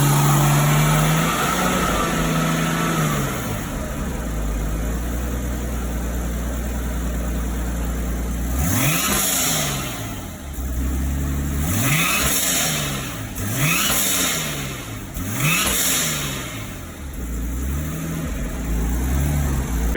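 Nissan Cefiro's RB25DET engine idles steadily after repair work, then rises through a series of sharp revs that swell and fall back repeatedly, loud and close with no talking.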